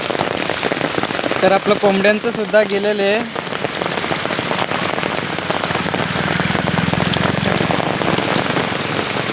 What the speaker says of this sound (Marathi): अशा प्रकारे खूप वेगाचा पाऊस वगैरे पडतो आहे